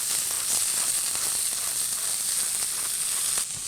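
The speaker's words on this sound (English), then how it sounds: "We'll just put it right over the pan and grate in." Yellow squash grated straight into a hot pan crackles with a steady, bright sizzle that runs close and loud the whole time, with no one speaking.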